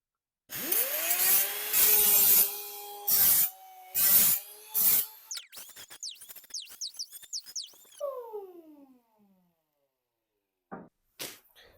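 Sharp, jagged edges being worked off a dented metal truck tailgate: a series of loud rasping strokes in bursts, then a run of shorter scraping pulls, a few descending squeals, a pause and two final scrapes.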